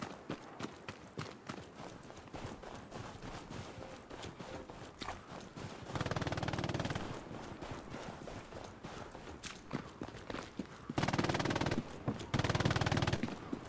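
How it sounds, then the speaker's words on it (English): Enemy machine gun fire in the World War II shooter Hell Let Loose, heard as sustained rapid bursts in a few long stretches at moderate distance, mixed with footsteps and battlefield noise. "That's an enemy MG."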